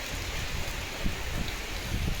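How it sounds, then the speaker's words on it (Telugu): Rain falls steadily during a road trip between Hyderabad, Kanipakam and Tiruvannamalai, a continuous hiss with soft scattered drops and faint low thuds, no talking. "వర్షంలో తడిచినా పర్లేదు"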